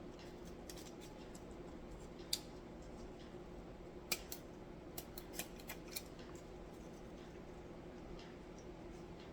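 Ribbon ends are trimmed with scissors while Christmas decorations are made, a few sparse, crisp snips scattered over a quiet room hiss with no voices.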